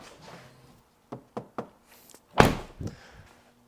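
Knuckles knock on wood, a few quick light taps followed by a heavier, louder thud and a softer final knock, close up in a quiet room.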